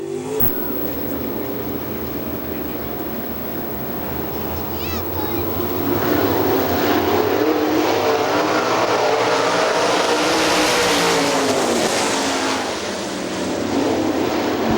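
Sprint cars racing on the dirt oval at Hartford Speedway Park during a heat, engines roaring in a continuous loud drone that swells and fades as cars pass, with an announcer talking over it.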